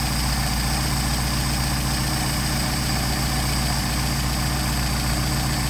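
Mercedes 190SL engine with Solex carburetors idling after an idle mixture adjustment, a steady, even low rumble with a regular pulse throughout, close and loud with no voices.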